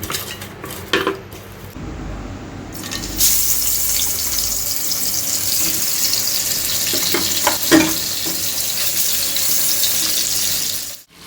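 Spice-coated fish pieces fry in oil in a wok, a continuous sizzling hiss joined by metal clatter of the pan and utensils, close and fairly loud.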